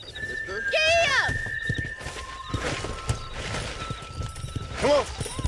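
A horse in the video game Red Dead Redemption whinnies loudly near the start and again near the end, with hoof clip-clops and game sounds underneath and voices speaking across the scene.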